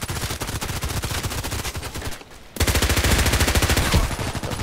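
Rapid automatic pistol fire from Contract Wars, a pistol-focused online shooter: two loud, close, continuous bursts of quick evenly spaced shots split by a brief pause, with no talking.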